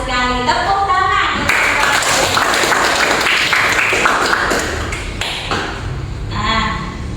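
Students in a classroom burst into clapping, a loose patter of hands that rises and fades in patches, while bright tones and a voice come through now and then.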